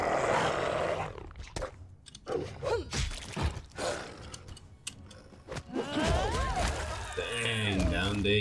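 Wolves growling and snarling in the fantasy role-playing game Pathfinder Kingmaker, several rough bursts of growls and roars over a few seconds, mixed with game effects and surrounded by someone talking.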